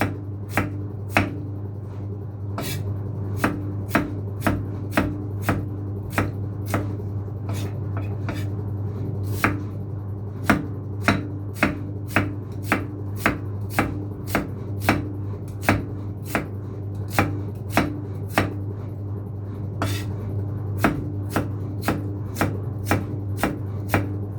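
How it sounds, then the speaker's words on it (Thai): A knife chops garlic on a cutting board for a Thai fermented-fish relish, sharp regular knocks in quick rhythmic bursts over a steady low hum, close and clear, no talk. "กระเทียมก็หั่น เล็ก เล็กเล็กซะหน่อยหนึ่งจะได้ตำง่ายๆนะคะ"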